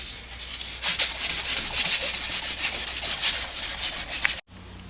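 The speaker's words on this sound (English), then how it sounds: "we have polished the two running surfaces for the needle bearings" The needle-bearing running surfaces on a 1953-1962 Corvette steering gearbox shaft are polished with abrasive. The result is a continuous, close, hissing rub in quick back-and-forth strokes that stops abruptly near the end.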